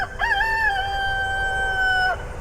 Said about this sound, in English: Must be the roosters on the other side of that hedge.